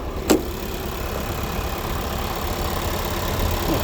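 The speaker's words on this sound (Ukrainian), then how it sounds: "чистенько двигун працює через те, що це свіжий автомобіль." A nearly new car's engine idles cleanly at a used car market in Rivne, Ukraine, a steady low rumble broken near the start by a brief click. No voices are present.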